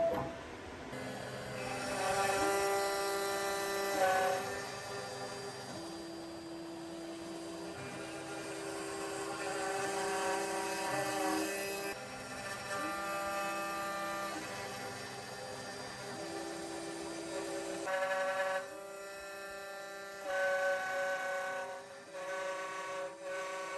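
A Genmitsu PROVerXL 6050 Plus CNC router with 15mm linear rails runs a contour cut, its spindle giving a loud, steady tonal whine whose pitch steps up and down as the cutter moves through the material, with no talk.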